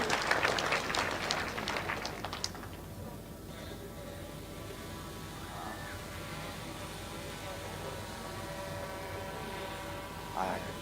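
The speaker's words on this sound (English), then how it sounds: "Makofi mazuri." Applause from mourners at a burial in Ng'arua, Laikipia, a brief burst of outdoor clapping in the first couple of seconds that quickly fades into a low, steady background hum.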